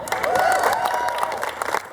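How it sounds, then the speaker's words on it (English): Audience clapping at a city health-department press conference in Cincinnati, a dense, steady patter of applause with some crowd noise, fairly close and continuous for the whole stretch. "You can clap for that."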